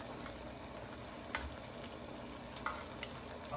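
Pastelon cups fry in hot oil with a continuous, even sizzling hiss, broken by a few faint pops and crackles, with no voices.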